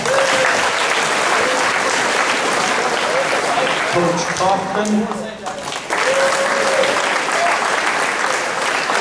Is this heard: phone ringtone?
no